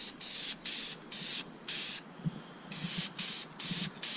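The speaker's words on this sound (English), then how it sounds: "It's going to be about the same application as doing it with any other spray can." A spray can lays wrinkle paint onto a valve cover in about eight short, close hissing bursts separated by brief pauses, with faint handling sounds in the gaps.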